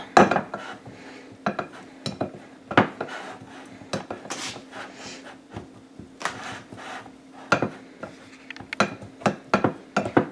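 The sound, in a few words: pastry blender cutting butter in bowl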